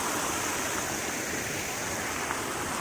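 Water flowing steadily and strongly, a continuous broad rushing that stays even and fairly close throughout, with no voices over it.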